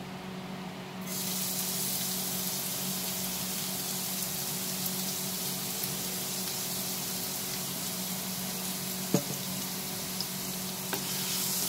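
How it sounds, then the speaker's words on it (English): Chopped garlic hits hot oil for chilli garlic prawns, a sudden hiss rising to a steady, even sizzle that carries on with a faint hum beneath and an occasional small tick or pop. "Once the oil gets heated, we will add the chopped garlic."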